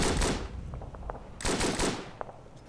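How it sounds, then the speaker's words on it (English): Machine gun fire in the World War One trench game Verdun comes as two bursts of rapid shots separated by scattered single cracks, loud and sharp against the background. "Machine gun fire!"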